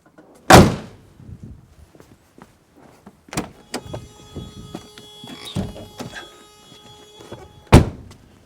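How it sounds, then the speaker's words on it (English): A W123 Mercedes 240D's hood release pops the hood up with a sharp metallic thunk, followed by scattered clicks and rattles, and a second firm thud near the end. "Hood pops up, lever comes out."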